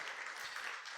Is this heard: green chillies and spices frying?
no